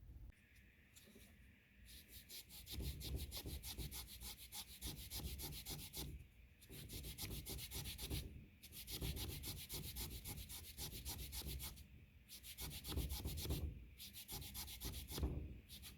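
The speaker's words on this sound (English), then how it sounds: "I'm just barely sanding the grooves back." Wood grooves on a spinet piano are sanded in steady back-and-forth strokes, a raspy rubbing rhythm with short pauses between passes, close and fairly quiet.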